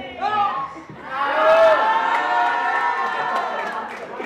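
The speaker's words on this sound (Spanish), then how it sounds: "Los aplausos." Party crowd at a birthday celebration in a hall cheering, whooping and clapping together, a loud, sustained burst of many voices that swells after a brief dip and carries on to the end.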